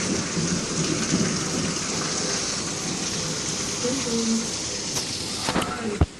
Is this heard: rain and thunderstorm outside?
yes